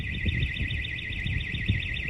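A farm's security alarm blares after a flat key-fob battery leaves it impossible to switch off, a piercing electronic warble cycling rapidly and without pause over a low rumble of handling noise close by.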